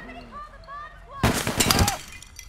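Gunshots fired at the player in APB Reloaded, with a dense ragged burst of loud cracks and pops lasting under a second, following a stretch of quiet voices and background game sounds.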